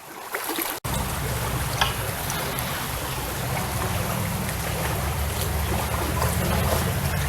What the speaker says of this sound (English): It's a nice creek.